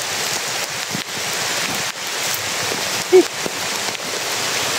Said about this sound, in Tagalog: Pasok ulan guys.